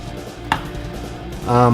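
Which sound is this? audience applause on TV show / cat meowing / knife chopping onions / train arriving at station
knife chopping onions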